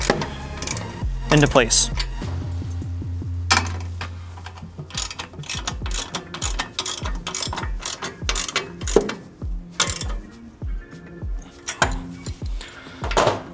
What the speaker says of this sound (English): Then grab your 9/16 wrench and further tighten